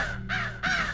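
A crow caws twice, two harsh, close, fairly loud calls in quick succession with a short gap between them.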